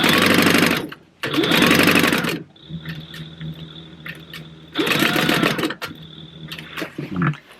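A sewing machine set to a 2.5 stitch length sews fabric for a food box project, with loud, rapid rhythmic stitching runs. Between bursts are pauses with quieter mechanical clicks and handling of the fabric.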